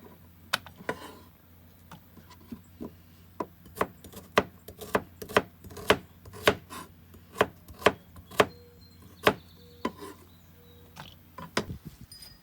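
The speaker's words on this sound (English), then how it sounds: "I'm just going to slice them like this" Knife slicing onions on a cutting board, a steady run of sharp, crisp chops at an unhurried, regular pace, close and fairly quiet, with no talking.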